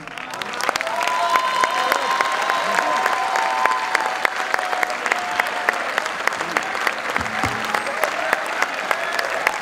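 An audience at an Independence Day poetry recital gives loud, sustained applause, dense clapping with sharp individual claps standing out and faint whistling or cheering tones woven through.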